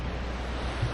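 Ocean surf rolls continuously onto the beach at Baybay Beach Resort in Dinalungan, Aurora, a steady broadband wash with some wind noise on the microphone and one slightly louder surge near the end.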